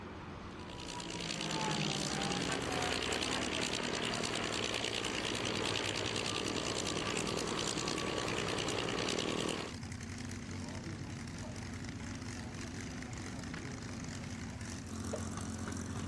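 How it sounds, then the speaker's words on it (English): A P-51 Mustang propeller fighter flies at the Duxford Flying Legends air show, its engine a continuous loud drone that drops in level midway as it passes, with a commentator talking over it. "So now Morris, in his new Mustang, gets to fly amongst 5 others"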